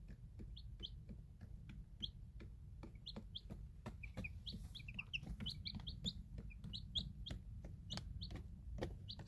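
Young chicks kept indoors give soft clucks and high chirps at an irregular pace, with some clustered peeps, over a low steady background hum, with no talk.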